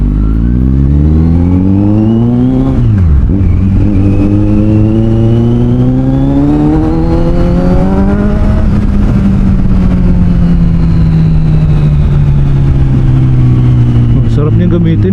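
A Kawasaki Z900SE motorcycle ridden on a road in the wet, its engine and exhaust droning loud and close, pitch rising and falling through gear changes, with faint talk underneath.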